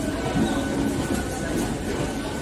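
A local commuter train makes a steady, loud rumble and rattle of wheels and carriages, continuous throughout with no clear voices on top.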